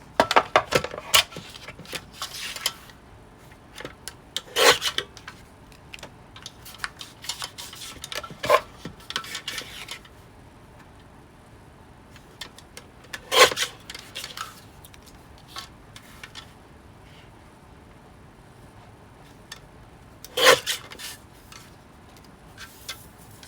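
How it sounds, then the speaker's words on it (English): Paper being trimmed down for a Happy Planner page, with several scattered crisp cuts and rubbing scrapes at close range in a quiet room, no talking. "I'm going to trim these down"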